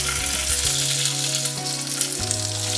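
Cumin seeds fry in groundnut oil with a loud, steady crackling sizzle that fills the whole stretch without pause, with no voices over it.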